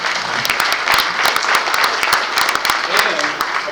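An audience at a Tampa Bay business conference breaks into applause, a dense run of clapping from many hands that stays steady and fairly close for several seconds. No one speaks over it.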